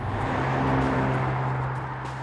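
A 2018 BMW M5 accelerating hard on the road, a steady, loud engine drone with a rising tone that holds throughout.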